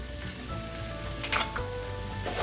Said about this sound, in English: So we're going to saute this for a few minutes